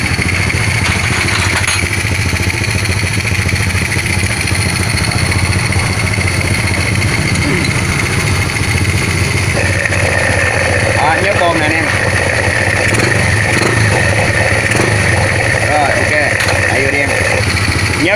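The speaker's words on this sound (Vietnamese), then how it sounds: "Bây giờ mình sẽ nổ máy cho anh em nghe cái tiếng máy em không ha." Boat engine, an Alpha sterndrive unit in Phu Quoc, idles steadily and loudly right after starting, a continuous low rumble with mechanical clatter; voices talk over it throughout.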